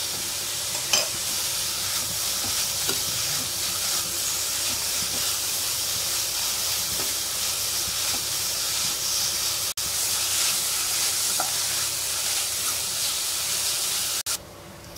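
Grated bottle gourd frying in ghee for kheer, a dense continuous hiss and sizzle close up, with faint scattered stirring ticks.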